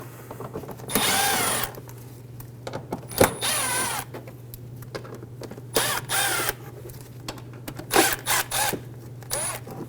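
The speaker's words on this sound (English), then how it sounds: "Remove the Phillips head screws for the mud flap." Power drill backing Phillips head screws out of a mud flap on a 2003-2008 Honda Pilot, several short whirring bursts of the motor separated by pauses, close and loud over a steady low hum.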